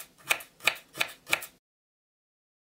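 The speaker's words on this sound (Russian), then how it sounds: "разрезаем морковь вдоль на две половины и нарезаем тонкими кусочками" A knife slices a carrot into thin pieces on a cutting board, four crisp evenly spaced chops followed by silence.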